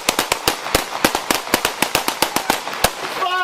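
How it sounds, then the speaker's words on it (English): Rapid volley of gunshots fired by police during a Jacksonville officer-involved shooting, about twenty sharp, loud cracks in quick succession over three seconds, close and harsh, ending as a voice begins. "shots fired by police"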